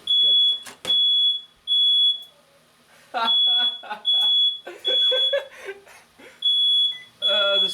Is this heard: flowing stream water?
no